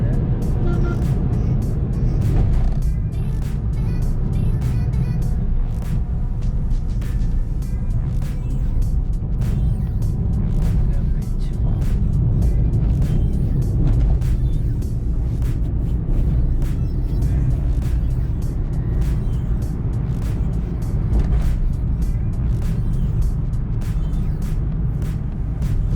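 A car cruises steadily at around 40 to 50 on the Eastern Express Highway, with continuous road and engine roar and scattered passing-traffic noise throughout.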